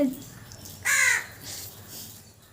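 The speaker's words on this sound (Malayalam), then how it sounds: "കാക്കകൾ കരയുന്നു" A single harsh crow caw rings out nearby, followed by fainter calls, over a quiet background.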